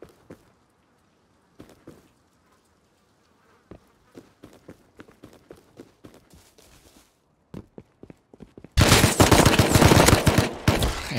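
Gunfire in the survival video game Rust, with scattered single shots and short bursts cracking out of near silence, then a loud, dense stretch of continuous firing at the end.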